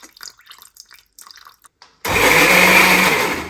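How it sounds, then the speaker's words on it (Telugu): A mixer grinder blends Rayalaseema-style tur dal chutney with soaked tamarind water, kicking in abruptly after a few seconds of soft talk and running as a loud, steady whir to the end. "మనం చింతపండు నానబెట్టుకున్న వాటర్ వేసుకుంటూ మిక్సీ పట్టుకోవాలి"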